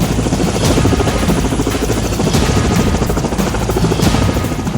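A Russian-made Kamov military helicopter flies close and loud, its rotor producing a dense, continuous thumping roar with rapid blade chop throughout.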